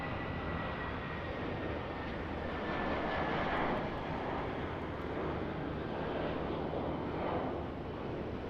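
A JetBlue airliner at Raleigh-Durham International Airport gives a steady, broad jet engine roar that swells slightly mid-way, fairly distant and continuous with no voices over it.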